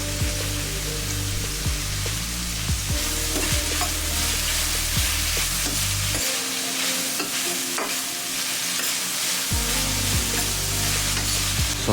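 Salted onions sauté in a pan for butter chicken, a loud, close crackling sizzle with frequent metallic spatula scrapes and clinks against the pan, continuous throughout with no talking.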